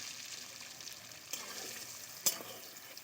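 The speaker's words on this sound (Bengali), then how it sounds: "খুব ভালো করে আলুগুলোকে তেলে ছেঁকে একদম লাল লাল করে ভেজে নেব।" Diced potatoes with turmeric and salt fry in hot oil, giving a soft, steady sizzle with a couple of faint clicks from stirring. It sounds close but quiet.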